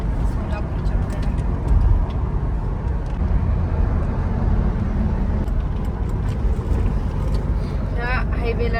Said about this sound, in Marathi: ह्या हायवेला ड्रायव्हिंग करायला मजा येते, सोलापूर हायवेला.